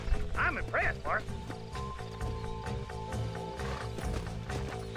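Horse hooves clop and a short whinny sounds in the Red Dead Redemption video game, under game music and speech with steady background sound.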